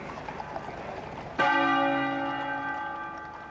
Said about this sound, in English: the Sebastopol bell tolled